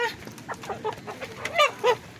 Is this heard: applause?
no